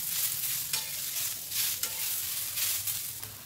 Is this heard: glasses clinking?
no